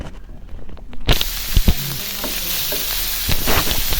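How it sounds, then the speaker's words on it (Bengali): Whole garam masala with cardamom, cinnamon and bay leaf hitting hot oil in a pan: a sudden loud burst of hissing sizzle after a quiet start, then sustained crackling frying with a few utensil knocks. "আর এখন তেল দিয়ে দিছি, একটু কিছু গরম মশলা, একটা এলাচ, দারুচিনি, আর হচ্ছে তেজপাতা দিলাম"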